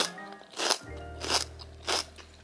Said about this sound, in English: While my food is getting ready, I'm gonna snack on this celery and this carrot.